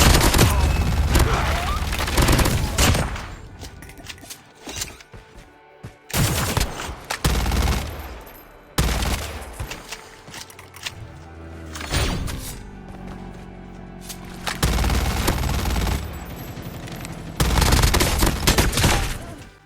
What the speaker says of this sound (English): I'm using the AK-47 with the caliber mag, which gives faster fire rate